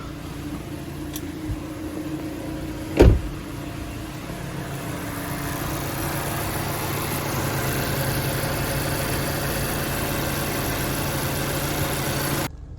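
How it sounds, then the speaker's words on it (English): A 2014 Mazda CX-5 engine idles steadily with a low, even hum close by. A single sharp knock sounds about three seconds in, and the idle carries on unchanged to the end. "Which it has been idling for about 5 minutes now"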